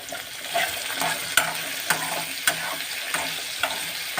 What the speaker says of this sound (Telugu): బెండకాయ ఫ్రై కూడా అయిపోవచ్చింది